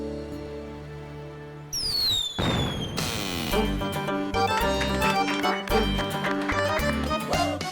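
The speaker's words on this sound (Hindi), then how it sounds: "ये बच्चे अभी से क्या पटाखे दगा रहे हैं?" Firecrackers bursting outside a home during a TV drama scene, sharp bangs and a rising whistle mixed into loud background music, with no talk over it.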